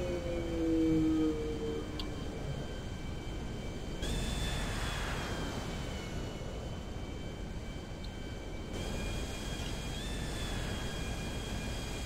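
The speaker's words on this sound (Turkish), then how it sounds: "Uçağın sesinden dolayı çok özür diliyorum." A steady, loud airplane engine drone in GTA 5, a continuous roar with shifting whine that fills the whole stretch without any talk.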